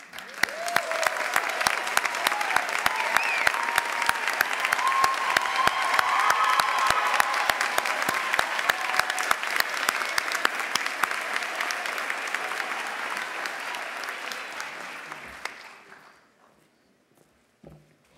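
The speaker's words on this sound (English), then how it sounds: "Winners, please stand for a round of applause." Sustained audience applause fills a spring art and design college commencement ceremony, with dense, even clapping from a large crowd that holds steady for about fifteen seconds before fading quickly to silence.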